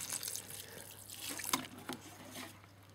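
Water poured over plants in grow bags inside a greenhouse, a steady close splashing and trickling with a few brief louder spatters and no voices.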